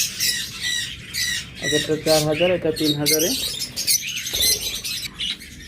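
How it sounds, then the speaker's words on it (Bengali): Pet birds in a bird shop squawk and chirp in loud, close bursts, with harsh calls mixed with higher tweets, while someone talks over them. "এছাড়া আমাদের কাছে পাবেন পোরপাস পাখি"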